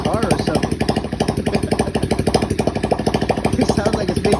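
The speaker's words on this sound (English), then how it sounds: "I finally got it started. But, man, it sounds like, well, there's no exhaust right now." A drift trike's small engine runs with no exhaust fitted, a loud, raw, rapid chugging putter with a steady pulsing rhythm, close by and alone.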